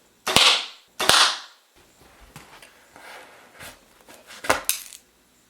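Arrows shot from a bow striking a target during a test of glued outserts, with two sharp loud impacts followed by softer rattles and thuds, then another pair of strikes.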